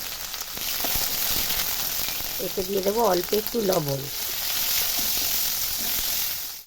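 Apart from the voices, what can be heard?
bitter gourd frying in hot oil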